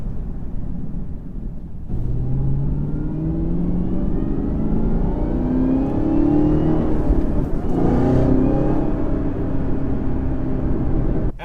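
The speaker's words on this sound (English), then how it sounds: "That was doing a little pull in first gear or second gear, and I definitely didn't break traction" A Chevrolet Camaro ZL1 1LE accelerates hard in first or second gear, its engine note rising steadily and loud from inside the cabin, with a brief dip as it shifts before climbing again.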